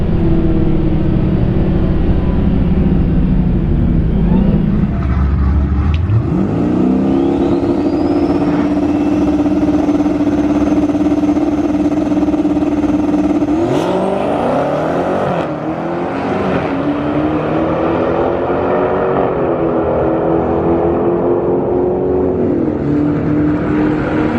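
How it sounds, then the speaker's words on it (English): A drag race car accelerates hard down the track, its loud engine note climbing steadily in pitch through the gears, with brief shifts and a rising whine near the end of the pass; no talking. "That was a good drag race too."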